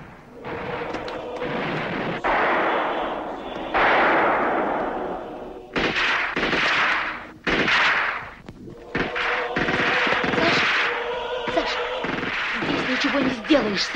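Battle sounds from a 1943 Soviet war film: bursts of gunfire and artillery blasts come in loud waves with short gaps, mixed with shouting voices and crowd noise.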